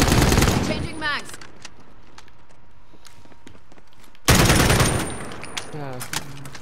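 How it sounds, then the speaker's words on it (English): Bursts of automatic gunfire from the shooter game Call of Duty: Modern Warfare, loud rapid volleys at the start and again near the end with a quieter gap between, with voices talking over the shooting. "Why is he shooting at me, dude?"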